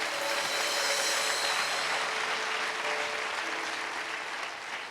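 A church congregation claps in sustained, dense applause that stays loud and steady throughout before easing slightly at the end, with no voices standing out.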